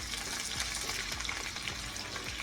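Sliced potatoes and onions fry steadily in a pan, a dense, even sizzle with a fine crackle running throughout at close range.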